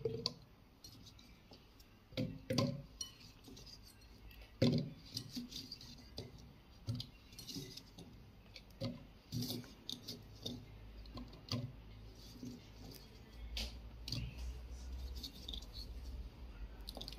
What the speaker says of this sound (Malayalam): ന്യൂട്രിബിളജിന്റെ ജാർ എടുക്കാം, അതുപോലെ തന്നെ നമുക്ക് കുറച്ച് ക്യാരറ്റ് ഇതിനകത്തോട്ട് ഇട്ട് കൊടുക്കാം.